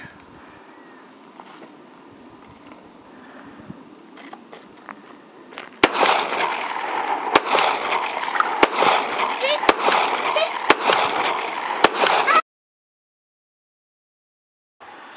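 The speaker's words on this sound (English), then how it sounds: "Just draw from the holster in the pocket and just rapid fire." A Taurus PT738 TCP pistol in a field test fires a rapid string of sharp gunshots, roughly half a dozen quick cracks over several seconds after a quieter lead-in, then stops abruptly.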